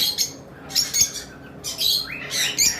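Pet lovebirds in a bird shop chirping in quick high bursts, with overlapping tweets and squawks coming in several short clusters, close and fairly clear.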